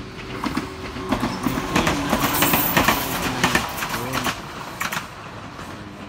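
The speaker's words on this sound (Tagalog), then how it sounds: "May train yan." A train passing through a Japanese town, its wheels producing a rhythmic clickety-clack over the rails with a steady rumble, moderately loud and fairly close, swelling mid-pass and easing toward the end.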